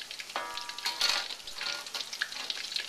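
Pork pieces frying in 350-degree oil, a steady bright crackling sizzle with bursts of popping bubbles, close and continuous without any talk.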